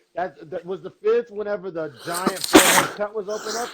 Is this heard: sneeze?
yes